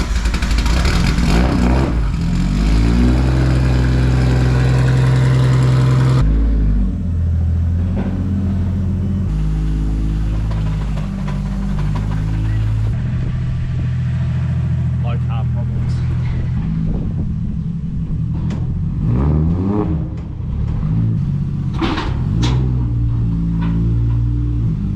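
A Nissan S14 drift car's engine runs and revs close by while the car is moved out of a garage onto a trailer, with rising and falling engine notes and a person talking over it.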